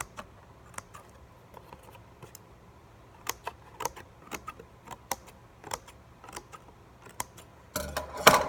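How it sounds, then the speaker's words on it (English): Scissors snip small notches into a cardboard Christmas ornament, a string of short, crisp clicks at irregular intervals, close and quiet, ending in a brief burst of rustling. "you're gonna go ahead and just cut some little notches along the side"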